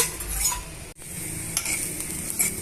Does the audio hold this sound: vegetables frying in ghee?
yes